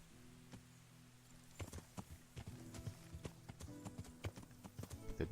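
Horse hooves clopping in Kingdom Come: Deliverance, quiet at first, then a clear, close run of walking hoofbeats on hard ground that grows denser and louder toward the end.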